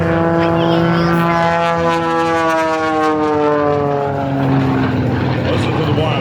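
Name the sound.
aerobatic propeller airplane engine whine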